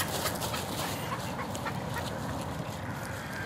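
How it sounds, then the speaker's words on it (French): Frigatebirds, each around a kilogram, call from a nesting colony in a dense, steady chorus of repeated popping 'pot pot' notes that overlap throughout without a break. "C'est des frégates qui font pot,"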